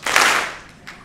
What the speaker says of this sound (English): So when I go through this list, it's the one clap.